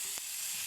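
Lake fish fries in a pan and is mixed, making a brief, steady, close hiss of sizzling oil with no voices.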